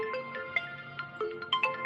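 A mobile phone plays a quiet, melodic ringtone of short repeating tones.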